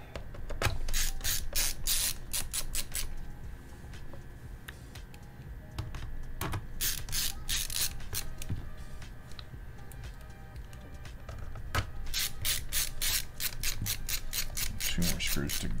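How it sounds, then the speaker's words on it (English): A screwdriver drives screws into a Dell Inspiron 5567 laptop during a battery replacement, giving bursts of quick ratcheting clicks separated by quieter pauses, close and distinct. "you screw until your screwdriver stops spinning, and then you should be good to go"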